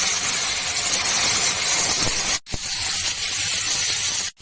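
Tomatoes go into a hot pan of browned onions for a potato and egg curry, setting off a loud, continuous hissing sizzle broken by two brief near-silent gaps.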